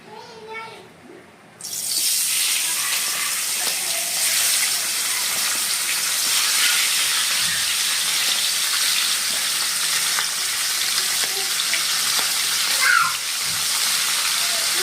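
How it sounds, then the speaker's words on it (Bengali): Fish heads dropped into hot oil set off a loud, sudden, continuous crackling sizzle that holds steady and close, after a brief quieter moment at the start. "তেল কিন্তু গরম হয়ে গেছে। আর এখন মাছের মাথাগুলো দিয়ে নেব তেলের মধ্যে।"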